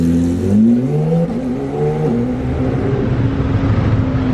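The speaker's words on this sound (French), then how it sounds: "Le SVR. Pas mal, ça sonne bien tout ça." An SVR sports car engine revs loudly and close, its pitch climbing and falling through several throttle blips before settling into a steady, rumbling idle.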